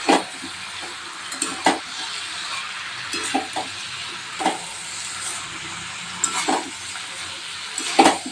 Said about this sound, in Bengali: এবার মশলাটা দিয়ে ভালো করে কষাবো এখন আমি নুনটাও দিয়ে দেবো